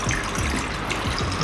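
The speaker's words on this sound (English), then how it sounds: "Slowly put some water." Water is poured slowly into a chef's pan on a smart induction cooker, giving a low, steady trickle and splash that runs throughout at moderate loudness with no voices.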